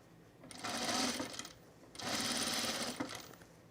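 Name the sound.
sewing machine stitching a tunic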